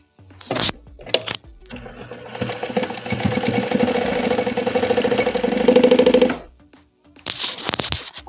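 A sewing machine running a security seam along the edges of a leather-style accordion wallet, a couple of short bursts followed by a long rapid mechanical stitching run of about five seconds, then another brief burst.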